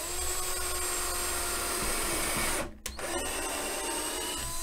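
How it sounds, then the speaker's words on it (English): A power drill runs steadily, boring holes in a workshop with a continuous high whine, briefly stopping for a moment near the middle before spinning up again. "Go ahead and drill the holes."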